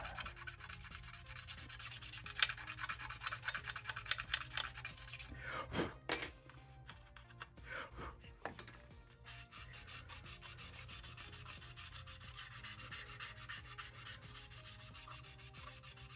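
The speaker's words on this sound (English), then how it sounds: "we're gonna come back in here with the scraper." Scraper worked over a plastic model kit part, a Monogram Typhoon, with steady rubbing, rasping strokes that continue close up for the whole stretch, briefly broken by a few sharper scrapes and handling noises near the middle.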